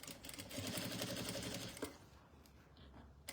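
A sewing machine stitches a fabric bread basket in a fast, steady mechanical whir for about two seconds, then stops and leaves only quiet handling sounds at low volume.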